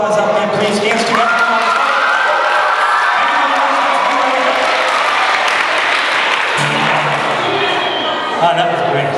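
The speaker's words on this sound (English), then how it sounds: "can we have a loud round of applause out there, please?" Children in a crowd give a loud round of applause with scattered cheering and shouts, a dense roar of clapping that runs throughout at close range.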